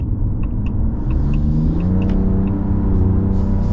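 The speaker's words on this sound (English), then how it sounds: "That acceleration's great. It's smooth all the way, and you feel like you always have power." A 2026 Ram RHO pickup truck accelerates with a steady, close engine rumble that rises smoothly in pitch as it builds speed, with no voices over it.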